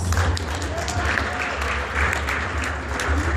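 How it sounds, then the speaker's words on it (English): A live audience claps in steady applause that holds for a few seconds, filling the room at an even level. "So men, let me hear you give that applause"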